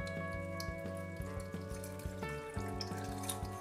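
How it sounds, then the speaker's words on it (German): Water pours into a rock tumbler polishing barrel of stones and polish, a steady splashing trickle under a bed of tonal background music, close and continuous. "Im nächsten Schritt fügen wir jetzt noch Wasser hinzu."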